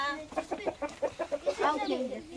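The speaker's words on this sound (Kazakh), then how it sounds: "Тауықтар да жүр араларында." Chickens clucking in a farm shed shared with sheep, a rooster among them: a run of short, rhythmic clucks close by, growing busier and more overlapping toward the end.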